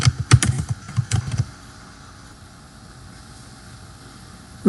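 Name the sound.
typing a password on a computer keyboard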